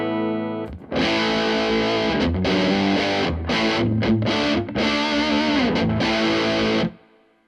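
A loud, distorted electric guitar through an effects pedal rings out in sustained chords and notes, heavy with effects, then cuts off and fades into silence.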